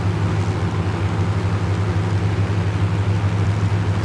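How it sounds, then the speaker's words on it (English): A Hawker Hurricane's Merlin engine in a flight simulator game gives a steady, even droning hum with a deep low rumble, unbroken and alone throughout. "Merlin engine continuing to purr away in front of us."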